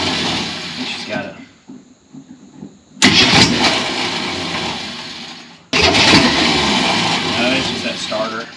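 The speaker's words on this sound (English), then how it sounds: "No, it's just that starter." An old Ford Econoline van engine, sitting unused for over fifteen years, cranks loudly on its starter in two long bursts that split the clip, with someone talking quietly in the lull between them.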